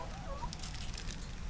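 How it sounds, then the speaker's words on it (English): Backyard chickens cluck softly in a few brief, faint calls, barely rising above a low, rumbling outdoor background. "Do you like the chickens?"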